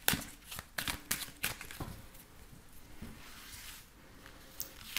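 Tarot cards shuffled before a reading, a run of sharp riffling bursts and soft slaps in the first two seconds, then quieter intermittent card handling, close and alone.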